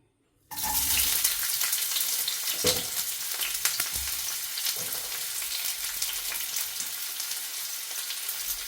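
Sliced onion dropped into hot oil in a pan breaks into a loud, steady, close sizzle that starts abruptly and hisses on without a break.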